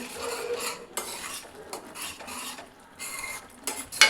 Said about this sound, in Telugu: మొత్తం మసాలా అంతా బాగా ఫ్రై అవుతుంది